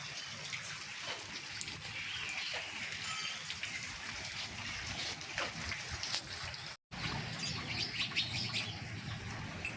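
Sparrows chirp repeatedly near a village shop in morning rain, a busy scatter of tweets over a steady rain patter, with no voices.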